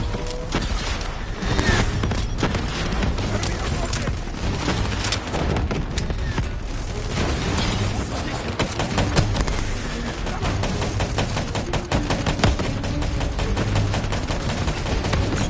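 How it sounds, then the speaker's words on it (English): Javelin missile strikes and gunfire in the Call of Duty Black Ops 3 campaign, a continuous loud barrage of shots, impacts and booms with mechanical clatter, voices faint beneath. "Javelin missiles incoming!"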